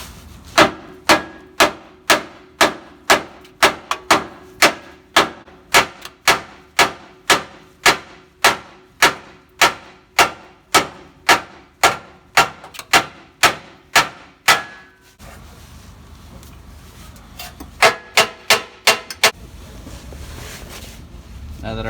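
A large hammer strikes a Nissan Titan truck crossmember to drive it down, a steady run of about two dozen loud metallic blows at a brisk even pace, then a short pause before a few more hits.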